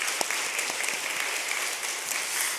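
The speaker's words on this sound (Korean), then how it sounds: "힘차게 환영의 박수로" Church congregation standing to give welcoming applause for new members during a Korean Presbyterian Sunday service in Detroit, a steady, moderately distant wash of clapping that holds evenly throughout with no talk over it.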